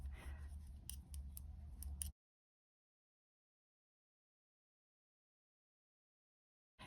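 Scissors snip crochet yarn while an openwork summer blouse is being made, a quick run of close, crisp cuts followed by silence.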